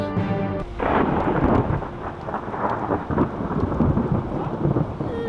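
A thunderstorm in Yellowstone with low rumbling thunder rolling over steady rain, the storm sound loud and continuous, with a sharper burst near the start.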